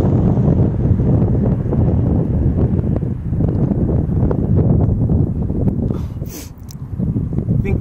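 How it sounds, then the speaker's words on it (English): Strong wind blows hard across the microphone during an outdoor tandem bike outing, making a loud, continuous buffeting roar that surges and dips throughout. "It's really windy today."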